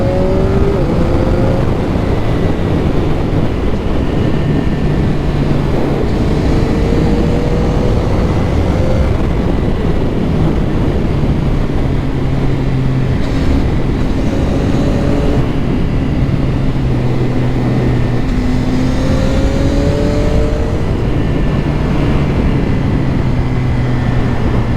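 A CFMOTO 675 SR-R motorcycle engine drones steadily at a low, relaxed pace while riding, with broad wind rush and gently rising and falling engine tones throughout.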